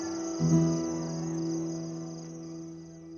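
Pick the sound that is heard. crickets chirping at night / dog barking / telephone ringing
crickets chirping at night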